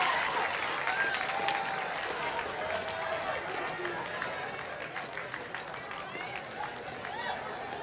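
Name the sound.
crowd applauding recruit display teams at a parade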